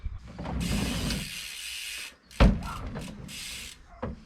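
A bicycle's front brake grabs for an endo, with a rapid ratcheting whir of the freewheel, a sharp clunk as the bike tips and lands, then more clicking ticks, all close and fairly loud.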